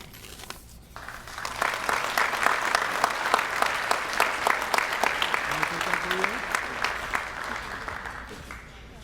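A crowd applauds at a Rhode Island Hockey Hall of Fame induction ceremony, many hands clapping in a dense, sustained burst with sharp individual claps standing out, while a voice speaks faintly underneath partway through.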